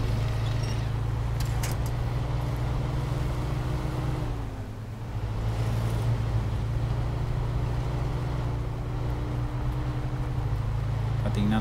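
A truck engine in the video game SnowRunner drones steadily and loudly as it strains over rocks in Alaska, a low continuous rumble with a brief dip, while someone talks over it.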